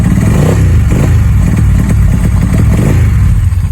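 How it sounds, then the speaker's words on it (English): Ducati 748 motorcycle engine revving up close, a loud continuous rumbling roar with rough clattering pulses, heard alone without talk. "I'm going to give her a little gas"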